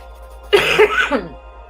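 A single short, throaty cough or throat clearing, close and fairly loud, in an otherwise quiet room.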